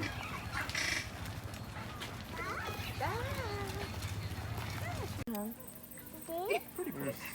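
Guinea fowl call at a zoo with repeated harsh, rising cackles over a crowd murmur, while people talk nearby.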